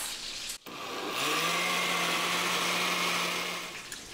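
A blender grinding red chile sauce with water runs as a loud, steady whir after a brief stop, holding an even motor hum for several seconds before tapering off.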